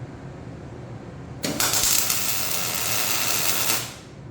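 A tack weld struck on a joint: a steady, loud crackling arc buzz starts abruptly, holds for about two seconds and then cuts off, with quiet shop ambience before and after.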